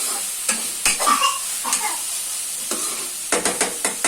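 Spiced tomato and egg curry with broad beans being stirred in a pan, close scraping strokes of a spoon in irregular bursts over a soft sizzle, no voices.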